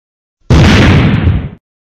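Explosion from the Mini Militia video game: a single loud, abrupt blast lasting about a second, broad and booming with a rumbling low end, then a sudden cutoff into silence.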